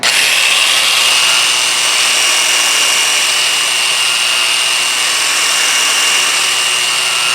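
Abrasive pad scratching stainless steel back and forth lengthwise, a loud continuous hissing rasp held close for several seconds with no talk.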